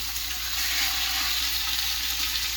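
Steady, even sizzling of chicken frying in a hot pan, a continuous hiss with no pauses and no voices.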